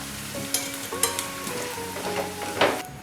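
Potatoes fry in hot oil with a continuous close sizzle and bubbling, broken by a few clinks and scrapes of a utensil in the pan.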